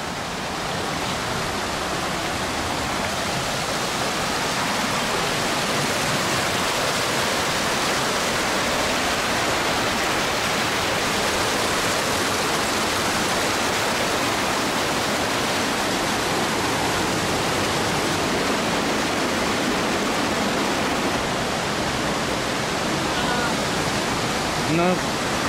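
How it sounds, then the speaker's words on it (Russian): A loud, continuous rush of a fast-flowing mountain river in a gorge in Kyrgyzstan fills the scene, steady and close, with no pauses. "мы спускаемся вниз к горной реке"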